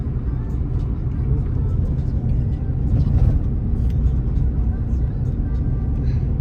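Car engine and road noise while driving along the Dwarka Expressway near the airport, a steady loud low rumble of tyres and traffic throughout with no pauses.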